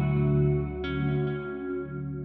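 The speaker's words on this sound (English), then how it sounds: "The Dispatch Master is a hi-fi digital delay and reverb device" Sustained distorted guitar-like tones ring out through a Dispatch Master hi-fi digital delay and reverb device, a wide, echoing wash fading slowly after a couple of plucked notes.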